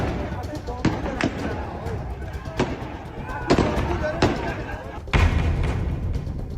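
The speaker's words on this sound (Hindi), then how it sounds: "उन पर फायरिंग कर रही है।" Gunfire aimed at protesters in Iran. Several sharp, separate bangs ring out at irregular intervals over a noisy crowd background with speech.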